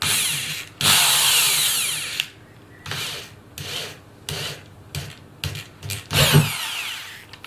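A power drill bores a hole into the top of a tank during a Mitsubishi Rosa bus conversion, whining in several bursts: one long run, then shorter stop-start pulses, loud and close with no talk.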